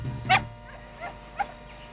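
A small dog gives three short, sharp barks close by, the first loudest, followed by two quicker and fainter yaps.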